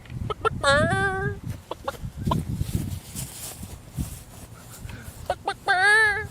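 Chickens cluck loudly and close by, giving several sharp, strongly pitched squawks near the start and again at the end, with softer clucks and scratchy activity in between.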